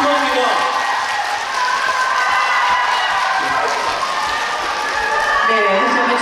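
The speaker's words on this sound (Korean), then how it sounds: "다시 한번 두 분에게 큰 박수 부탁드리겠습니다" Dense, sustained applause and cheering from a large crowd at a Korean entertainment arts awards ceremony for the singer of the year winners, loud and continuous with a speaking voice over it.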